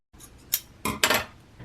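Scissors cut fabric pieces for a sewn summer top: a few short, crisp snips at close range, spaced unevenly, with quiet pauses between them.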